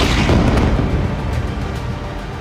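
Explosions from an Israeli airstrike on Gaza, a loud, dense, sustained rumble with a heavy blast near the start that rolls on without clear gaps, no speech over it.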